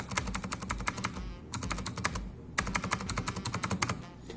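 Fast typing on an Ant Esports MK-1000 mechanical keyboard, clattering keystrokes in rapid runs with brief gaps between bursts, close and clear.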